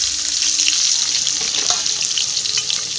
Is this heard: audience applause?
no